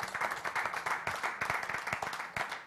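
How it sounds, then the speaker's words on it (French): A studio audience at a French-language TV culture and music program claps loudly and steadily, with dense individual hand claps close by, for an honored guest. "Je vous demande de l'applaudir bien fort."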